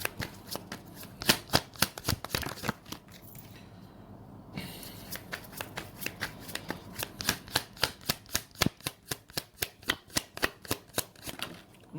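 Tarot cards are shuffled close up in quick repeated riffles, a rapid rhythmic flutter of snaps with a short pause partway through.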